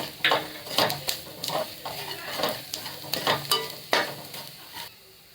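Onions with salt and ground pepper frying in a pan, repeated close scrapes and stirs of a spatula over a light sizzle, in bursts that fade out near the end.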